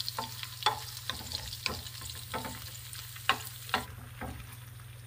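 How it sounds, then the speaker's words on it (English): Food fries in a pan while a spoon stirs it in repeated scraping strokes over a soft, steady sizzle, close by, with no one talking. "Stir it. Spoon down. and then stir the pan."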